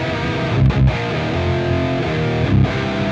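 Electric guitar played through the crunch channel of a Mercuriall SS-11X amp plugin, a continuous mildly distorted chordal riff with a couple of brief muted accents, close and alone.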